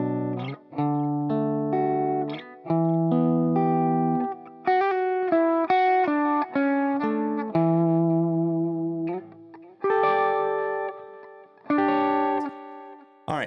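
Electric guitar played through a delay effect set to sound almost like reverb: a sequence of clean picked chords and single notes, each one trailing off in soft repeating echoes, with brief pauses between phrases.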